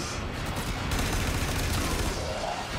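Rapid gunshots from a weapon in the video game Warframe, a dense continuous burst of fire filling the moment, loud and close without pause.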